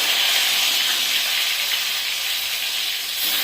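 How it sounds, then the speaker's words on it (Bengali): Tomatoes dropped into hot oil for a kabuli chana curry give a loud, steady, hissing sizzle that fills the whole stretch, with a slight surge near the end. "এই যে তেল গরম হয়ে গেছে। হ্যাঁ, আমি এই যে টমেটোগুলো দিয়ে দিচ্ছি।"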